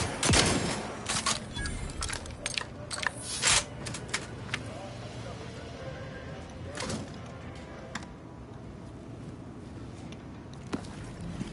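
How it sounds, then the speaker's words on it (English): Shotgun firing in The Outer Worlds 2, several sharp blasts clustered early followed by sparser distant shots and shuffling movement, with quieter stretches between. "Man, this shotgun's good."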